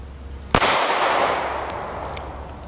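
A single sharp, loud report from a 3-inch SIG P938 pistol firing 9x19mm Norma 108-grain monolithic hollow point rounds, followed by a bright ringing decay and faint metallic clinks.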